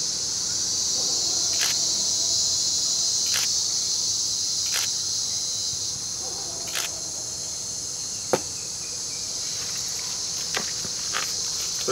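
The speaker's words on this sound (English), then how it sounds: "They stridulate. They have a stridulating organ on their abdomen." Bullet ant stridulating from a nest in a rainforest: a steady high-pitched buzzing hiss with a few short ticks and rustles mixed in, close and continuous throughout.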